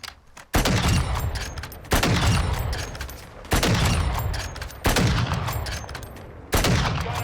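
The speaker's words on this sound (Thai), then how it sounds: "ไหนเมื่อกี้ใครยิงเมื่อกี้ใครยิง" Five loud, close bursts of automatic gunfire in the Call of Duty Modern Warfare II DMZ game, each starting sharply and rattling for over a second before the next, with no talk.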